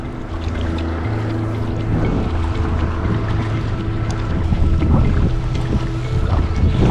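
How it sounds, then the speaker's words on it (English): Loud engine drone of a high-speed rigid inflatable ferry boat crossing the Sound to Handa in Scotland, with wind rushing and spray splashing throughout. "Handa's ferry is a high-speed rib, making light work of crossing the Sound."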